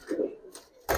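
Giribaz pigeons of silver colouring coo softly, with one low throaty note followed by short breathy bursts, all close and brief.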